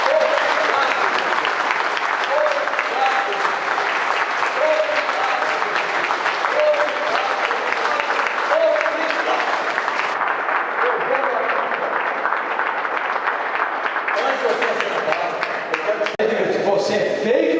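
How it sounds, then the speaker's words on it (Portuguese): A crowd at a church-style gathering applauds loudly in sustained clapping, with voices and faint music mixed in beneath the steady clatter of hands. "vamos dar para Ele que deu a vida por nós uma salva de palmas bem forte"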